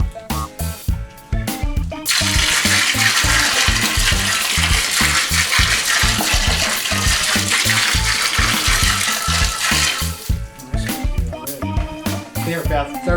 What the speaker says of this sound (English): to that mixture, I'm going to add a gallon of apple cider